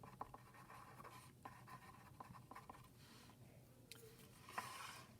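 Pen scratching across paper as notes are written, a quiet and steady close-up scrawl with small strokes and taps, faint throughout with no voices.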